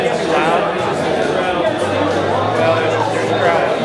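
Dense crowd chatter fills a room during a sports signing announcement, a steady loud babble of many overlapping voices with no single speaker standing out.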